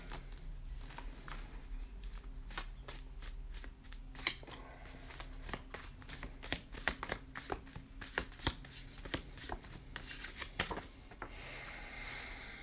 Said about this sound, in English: I'm so glad you guys watch me shuffle on camera.